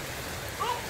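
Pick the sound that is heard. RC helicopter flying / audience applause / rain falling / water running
rain falling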